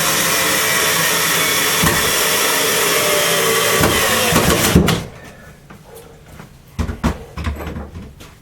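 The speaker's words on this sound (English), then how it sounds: "Let's whack one of these screws in." A screw driven into scrap wood for a saw stand, heard as a loud, steady drill whine for about five seconds that then stops, followed by quieter knocks and handling noises.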